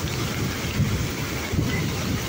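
Steady heavy typhoon rain roaring together with the rushing Marikina River, a dense continuous wash of noise with low rumbling surges, loud and close.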